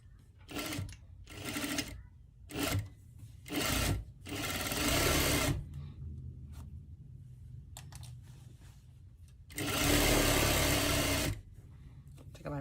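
Short bursts of a sewing machine stitching fabric come in quick succession, followed by a longer run and a final extended burst, with quiet pauses between them.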